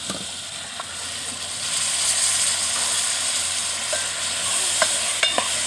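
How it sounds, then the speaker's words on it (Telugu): Onions and tomatoes fry in oil in a pan with a steady close sizzle, broken near the end by a few sharp stirring clicks and scrapes, with no voices. "4 ఉల్లిపాయలు 4 టమాటాలు వేస్తున్నాను"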